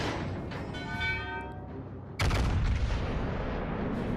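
Warship main guns fire in World of Warships Legends, a sudden heavy broadside boom that cuts in loud and sustains into rumbling blast noise over the game's ongoing background sound.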